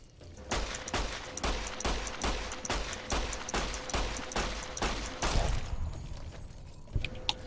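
Rapid bursts of gunfire from a shootout in the video game Fallout: New Vegas, repeated loud shots in quick succession for several seconds before tapering into scattered, quieter pops.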